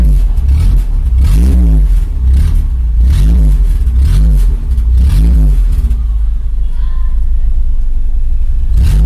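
A 1995 Toyota Kijang pickup's carburetted engine revs hard in three or four rising bursts, each one climbing and falling back to a steady, loud idle rumble close by.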